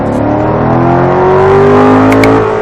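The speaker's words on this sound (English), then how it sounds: "That damn Ferrari, 660 horsepower." A 660-horsepower Ferrari passes close on a race track, its loud sustained engine note rising in pitch as it accelerates and then fading slightly, with no talk over it.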